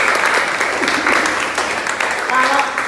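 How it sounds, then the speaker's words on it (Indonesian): Classroom applause in a school poetry lesson: steady, dense clapping from a group of students lasting throughout, close and fairly loud, with some voices mixed in. "tepuk tangan dulu"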